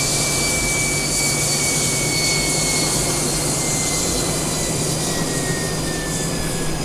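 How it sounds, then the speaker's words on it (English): A Northrop T-38 Talon jet engine in Microsoft Flight Simulator whines steadily with a loud, continuous roar and a high tone that slowly shifts in pitch as it spools up. "Sounds like that second engine is coming up."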